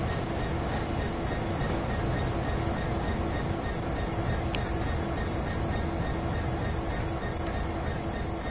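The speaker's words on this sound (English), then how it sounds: "There it is. Here's our next train." A train pulling into a one-platform station on the East Coast Way route in Train Sim World 3, a steady loud rumble of wheels and engine with a faint brief squeal, no talk.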